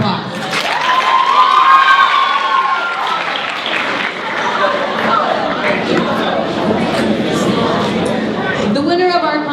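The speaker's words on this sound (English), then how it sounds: "Let's give them another round of applause." Audience applause and cheering for poetry recitation competitors at a high school event, loud and sustained throughout with a crowd of voices mixed in.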